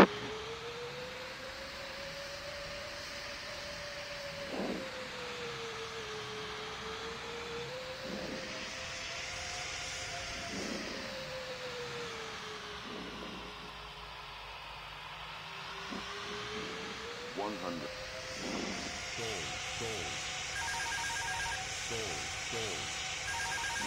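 Airliner landing in the Roblox flight game PTFS with flaps and gear down and reverse thrust, a steady engine whine that rises and falls in pitch, with scattered clicks and a person talking over it.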